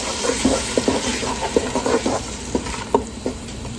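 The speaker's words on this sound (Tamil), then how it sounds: "நல்லா கிண்டி விட்டுருங்க." Thick tomato-cashew aloo gobi curry of potato and cauliflower being stirred in a pan, with soft scraping strokes and wet patters over a low sizzle, close and moderately loud, no voices.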